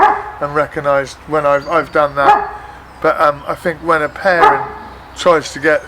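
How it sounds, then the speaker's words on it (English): A dog barks repeatedly in a series of close bursts during a conversation, layered under and between a person's ongoing indoor talk. "sorry about the dog barking"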